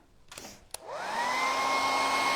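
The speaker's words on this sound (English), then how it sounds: "So let me just hit that with the dryer." A hair dryer drying a second coat of shimmery polish or paint: a couple of clicks, then the motor spins up into a loud, steady whirring hum that continues to the end.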